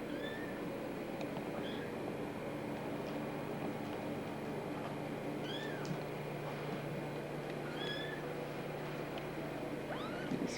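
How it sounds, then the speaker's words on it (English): A young kitten gives repeated high, squeaky meows, short and spaced every second or two, heard close while being held in a warm indoor room over a constant background hum. "The squeaking kitten being Bendy, who I'm holding."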